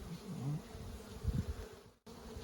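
Honeybees drone steadily in an opened hive, a close, continuous low buzz with a few louder swells and a momentary dropout.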